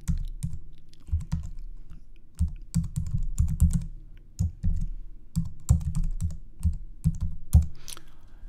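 Computer keyboard keys tapped in irregular bursts while an email address or login name is entered on a password-reset screen, close and clear, with short pauses between runs of keystrokes and no talking.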